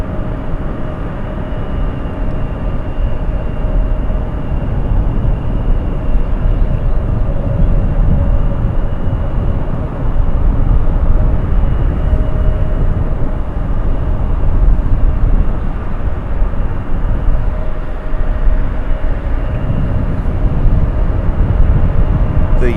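A Frontier airliner, flight 1518 to Philadelphia, at Raleigh-Durham International Airport gives a loud, steady jet roar with a low rumble that holds nearly unchanged throughout, with no voices.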